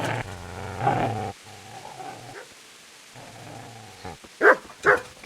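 Dog barking and growling in the video game Kingdom Come: Deliverance, with a sustained growl early on, quieter rumbling in the middle and a few sharp close barks near the end.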